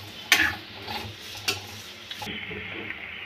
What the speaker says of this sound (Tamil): இப்போ வெங்காயம் தக்காளி நல்லா வதங்கிடுச்சு